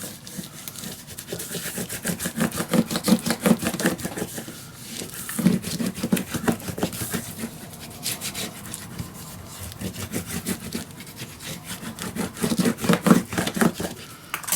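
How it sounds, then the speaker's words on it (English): A bone folder or similar tool rubs paper down onto a mini album page in quick back-and-forth strokes, a close, dry scraping rhythm that keeps going without speech. "I'm gonna burnish everything down."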